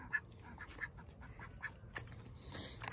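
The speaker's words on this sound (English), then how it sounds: "The ducks we just decided to let out yesterday, so they're going to start to wander." Ducks roam loose outdoors on a desert property, giving repeated raspy quacks spaced about every half second to second, moderately near, over a low background rumble.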